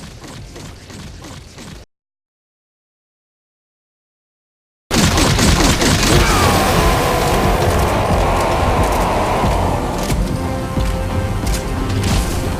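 A light machine gun fires at the Man on Fire boss in Metal Gear Solid V, in loud, continuous rattling bursts mixed with booming impacts. The shooting breaks off for a few seconds of total silence, then resumes even louder.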